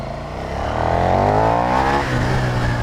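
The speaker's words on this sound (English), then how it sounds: "All these cars coming past now, I'm not actually worried about them" Traffic streams past a 2020 KTM Superduke R motorcycle on the road, a steady broad engine and tyre rumble that swells into a loud passing drone midway and then eases off.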